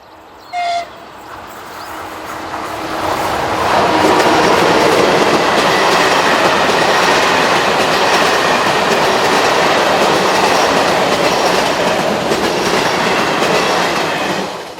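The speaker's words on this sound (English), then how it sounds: "Czech Railways 162053 is seen in charge of the 2213 overnight train from Prague to Humene" Czech Railways locomotive 162053 hauls an overnight passenger train from Prague to Humenne, its broadband rumble swelling in after a brief quiet start and holding loud and steady with rhythmic wheel clatter.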